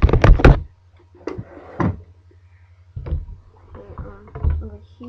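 A drawer being pulled open and pushed shut, several close wooden knocks and thuds spaced across a few seconds, with a voice talking quietly in between.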